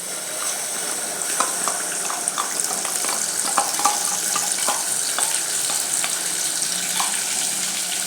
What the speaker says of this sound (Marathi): हा मसाला अगदी तेलात चांगला भाजायचा, म्हणजे याला तेल सुटेपर्यंत मसाला व्यवस्थित भाजून घ्यायचा आहे